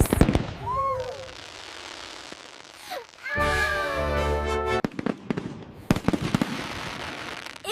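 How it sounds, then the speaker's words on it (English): Fireworks bursting at a summer night celebration, several loud booms and crackles spread across the moment, with a sustained whistling or screaming rocket in the middle and a voice briefly heard. "Red, white, and blue fireworks."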